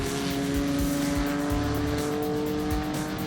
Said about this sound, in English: Falconer is yet again on the outside of Groenewold as they break for turn 5